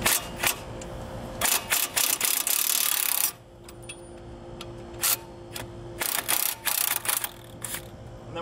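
Ratchet loosening the lower bolt on a Nissan Altima driver-side axle, loud close bursts of rapid clicking, first a long continuous run, then a pause and several shorter clicking spurts.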